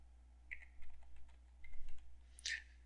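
Someone types a password on a computer keyboard in a few quick, quiet clusters of key clicks, with scattered taps and a brief louder burst near the end.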